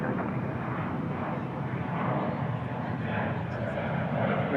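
American Airlines jet taking off from runway 36 right at DFW International Airport, a broad sustained engine roar that stays steady and fairly distant, with a radio voice talking over it.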